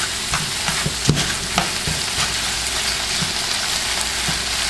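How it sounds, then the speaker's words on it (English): Shrimp sear in a hot pan for shrimp fried rice, a loud steady sizzle punctuated by several sharp clacks of a utensil stirring against the pan. "So all I'm doing is making sure my shrimp get a little color"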